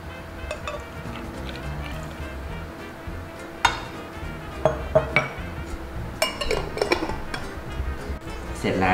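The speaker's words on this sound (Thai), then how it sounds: "คนๆเล็กน้อยเทใส่แก้วเลย" A spoon stirring cold brew coffee in a jar, then coffee poured into a glass: scattered clinks and taps of metal on glass, a few sharp knocks, and soft liquid movement, all fairly close.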